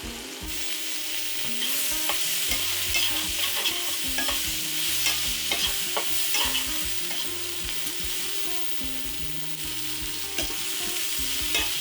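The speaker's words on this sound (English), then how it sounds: "We are going to start the recipe by first cooking the onions and the peppers" Onions and peppers fry in a pan with a steady, close sizzle, while a utensil stirs and scrapes through them in frequent sharp clicks and knocks for about twelve seconds, with no voices.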